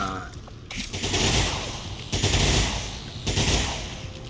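Video game combat gunfire comes in three loud bursts of rapid automatic fire, each a second or more long, with short gaps between them.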